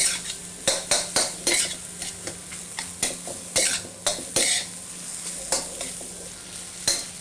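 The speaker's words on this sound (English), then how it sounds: "we'll get it in there and give it a good stir fry" Crumbled rice being stir-fried in a pan, with repeated scraping strokes of a utensil against metal in an uneven rhythm over a soft background sizzle, close and clear.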